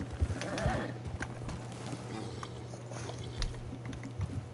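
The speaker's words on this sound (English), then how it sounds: "why is my horse still walking?" A horse walking in the Red Dead video game, soft hoof clip-clops over a low steady hum and faint background game noise, fairly quiet.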